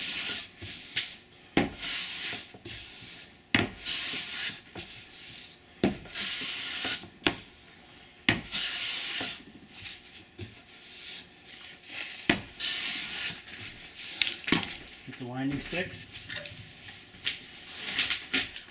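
Hand plane taking repeated passes along a pine board for a candle box, each stroke a rasping shave separated by short pauses, close and moderately loud with no talking.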